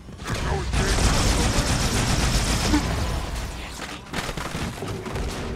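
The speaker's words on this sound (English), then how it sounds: "Who is that that's shooting from top?" Dense gunfire erupts in a Halo 2 Legendary match, with sustained rapid shots and booms filling the mix, a brief lull near the end before firing resumes.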